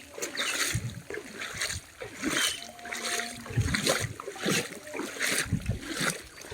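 A boat pushes through floodwater across submerged rural fields, with rhythmic splashes and sloshing repeating every second or so, fairly close, over a steady wash of moving water.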